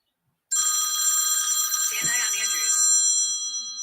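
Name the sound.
telephone ringing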